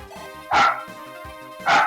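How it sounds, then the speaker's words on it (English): A dog indoors in a room lets out two loud, close barks about a second apart, each short and sharp against quiet game music in the background. "That was my dog."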